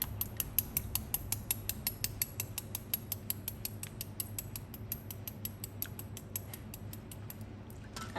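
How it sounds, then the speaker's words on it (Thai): A spoon taps a boiled egg shell to crack it for peeling, a rapid, steady run of small sharp clicks repeating throughout at close range, with a faint low hum underneath. "จากนั้นเราก็ มาปอกเปลือกค่ะ ใช้ช้อนเคาะแบบนี้นะ"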